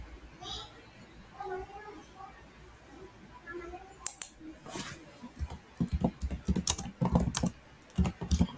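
Typing on a computer keyboard picks up partway through, with quick irregular clusters of clicks close to the mic, while a voice talks quietly at the start.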